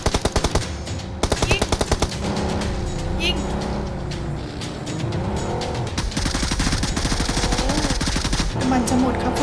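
Rapid automatic gunfire bursts in the shooting game PUBG, loud and close, come in repeated volleys alongside a vehicle engine, with players talking over the action.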